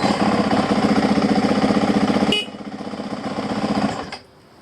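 A 2021 Yamaha WR450F dirt bike engine runs with a loud, steady, buzzing mechanical drone. It drops abruptly in level partway through, rises again, then falls away near the end.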